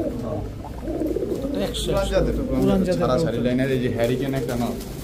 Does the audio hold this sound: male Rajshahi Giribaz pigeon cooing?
yes